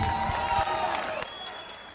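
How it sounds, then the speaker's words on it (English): Applause and crowd noise at a party primaries event, a brief burst of clapping and cheering from an audience that quickly tapers off, with a voice briefly present. "A round of applause for Wise Man"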